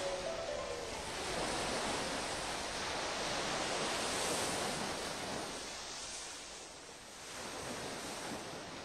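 Sea waves roll steadily off the island of Ikaria, a broad continuous wash of surf that swells and eases over several seconds, with some wind rumble on the microphone and no voices.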